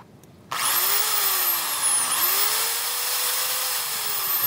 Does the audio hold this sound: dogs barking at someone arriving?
no